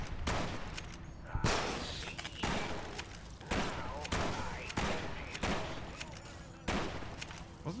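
Repeated bursts of enemy gunfire in Fallout: New Vegas, sharp shots recurring about every second over a busy game backdrop, with fusillade-like clusters.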